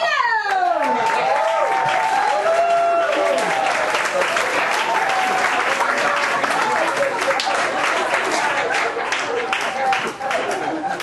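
Steady, loud applause from a comedy club audience, dense clapping filling the room throughout, with a voice speaking over it at the start.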